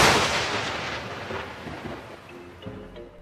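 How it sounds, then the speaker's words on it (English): Heavy, booming gunshots fired in a workplace, a loud blast at the start that rolls and decays into rumbling echoes, with a few more dull reports following, no voices. "Shots fired in the workplace."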